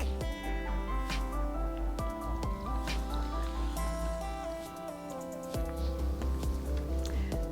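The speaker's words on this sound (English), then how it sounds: "And then let's pour ourselves a drink." A cocktail made with egg whites is poured into a glass of ice, a soft close trickle and drip heard over continuous background music.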